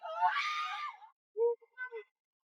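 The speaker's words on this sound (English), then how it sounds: "Team members screamed." People scream aboard a spiraling jet, one long, loud, strained scream followed by a few shorter cries after a brief silence, all close and isolated.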